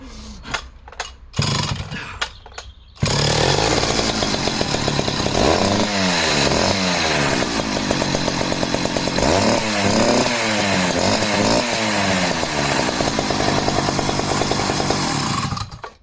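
An old Homelite or Partner chainsaw engine, smoky and long unused, fires up after a few rough pulls and runs loud and close, revving up and down repeatedly with a rattling two-stroke buzz.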